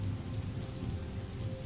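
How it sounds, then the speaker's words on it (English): Soft, steady rain patters continuously on a surface, a gentle even wash of drops with no voices, heard close and fairly quiet throughout. "a soft patter of rain began, gentle at first, then falling like shimmering beads"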